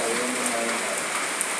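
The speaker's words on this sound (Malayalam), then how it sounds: "ഭയങ്കര സന്തോഷമാണ് മഴ പെയ്തൊക്കെ" Steady rain falling with light thunder and no wind, a continuous close hiss of drops on surfaces throughout with no talk.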